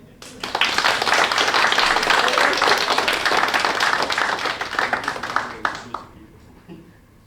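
A stand-up comedy audience breaks into dense clapping and applause that swells quickly, holds for several seconds, then thins out and fades.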